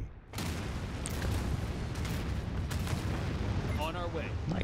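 Missile fire and blasts in Anno 2205 fill the scene after a brief quiet start, a dense sustained roar of bursts and booms, with a voice heard faintly beneath.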